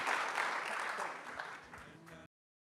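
Audience applause at a Clinton Global Initiative event on racial equity, a dense, sustained wash of clapping from a large crowd that gradually thins before stopping abruptly.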